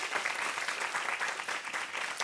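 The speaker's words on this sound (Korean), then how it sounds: "네, 멋진 답변해 주신 대장님께서 박수 한번 부탁드리겠습니다." Steady audience applause at a talk concert, a dense even patter of many hands clapping close by with no pauses.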